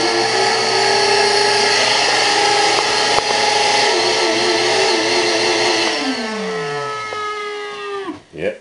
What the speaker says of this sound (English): like this noisy shop vac, which is screeched forever